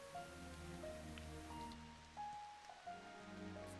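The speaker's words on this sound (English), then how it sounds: "It's raining again." Gentle rain patters steadily in the farming game Echoes of the Plum Grove, soft and even, with quiet music tones running alongside and no talking.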